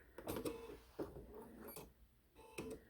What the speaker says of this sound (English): push this needle down, needle up button and bring that bobbin up to the top